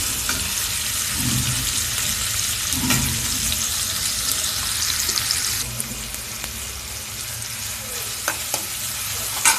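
Paneer fries in a hot pan with a loud, continuous sizzle, broken by a few scraping stirs and light clinks near the end.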